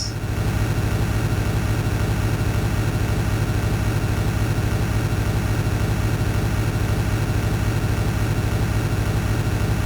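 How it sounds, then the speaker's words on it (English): The bus engine in the driving game Desert Bus drones on in a steady, monotonous whir, a constant low hum and rumble with no change in pitch or loudness for the whole stretch. "I love the whirring of the engine."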